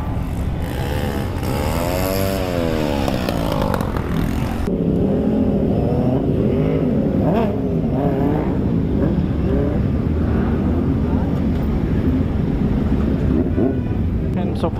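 A QJ Motors SRT 800 sports bike on a test ride rumbles along with heavy wind buffeting the microphone, the engine note rising and falling beneath intermittent talking.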